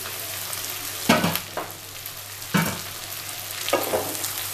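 Boiled potato cubes frying with fenugreek and shrimp in a pan, a constant close sizzle broken by three scraping stirs roughly a second and a half apart, with no voices.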